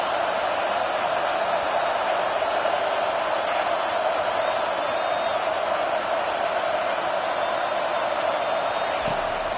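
A stadium crowd in the Madden football video game roars on third down, a dense, loud, unbroken wall of cheering that holds steady for the whole stretch.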